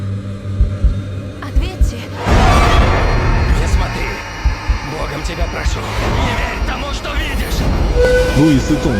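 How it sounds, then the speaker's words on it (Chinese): A subway train rushes into a station in a Spanish horror film, building from a low rumble to a loud roaring burst with rattling and a brief high tone near the end. "正好地铁快速驶来"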